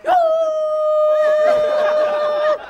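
A dog lets out a single long, sustained howl, steady in pitch and close by, lasting a few seconds before cutting off.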